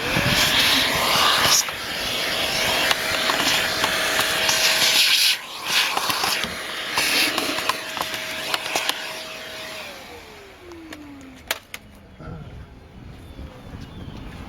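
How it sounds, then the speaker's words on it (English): A loud vacuum cleaner sucks debris from a car's air filter housing, roaring and hissing up close, its whine holding steady then dropping as the motor winds down, with faint handling noises after. "This is where your vacuum cleaner is going to come in."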